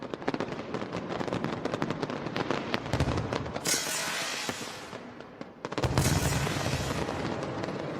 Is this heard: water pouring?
no